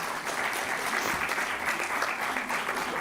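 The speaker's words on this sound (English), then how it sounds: "and big round of applause for them" Audience at a law school convocation ceremony applauding, a continuous even wash of clapping from a large crowd, heard alone.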